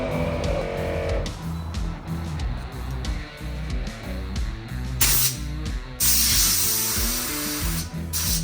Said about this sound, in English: cleaning out the electrical contacts with compressed air